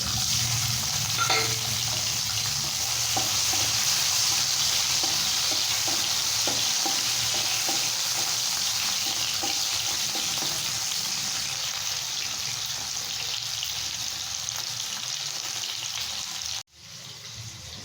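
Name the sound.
chopped tomatoes sizzling in hot oil with nigella seeds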